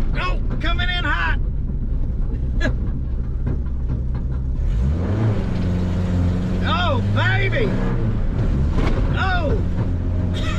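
Engine of a 1981 minitruck revving hard with the throttle sticking, a loud sustained drone that rises in pitch and holds high, with wind buffeting and people talking and exclaiming over it.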